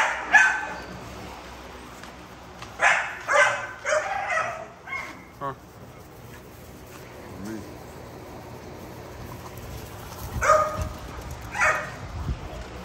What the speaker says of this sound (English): I think these dogs, if they still here in the next few months, I think they're gonna be bigger than Zeus.